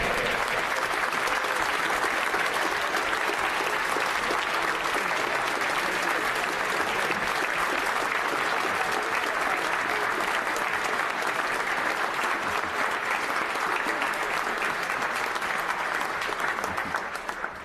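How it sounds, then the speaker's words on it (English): Sustained applause fills the House of Commons chamber during Prime Minister's Questions, a dense, steady clapping from many members that holds level and unbroken for the whole stretch before thinning slightly at the very end. "And that's the only reason I allow clapping."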